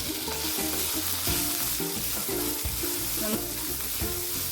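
Chopped ginger, green chilli and half an onion sauté in a pan for Kerala-style rava upma, a loud continuous sizzle with rhythmic scraping strokes of a spatula.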